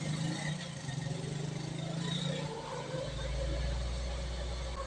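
A Ford EcoSport engine idles at about 1,500 RPM during an overheating check, a steady close mechanical hum whose low drone deepens partway through.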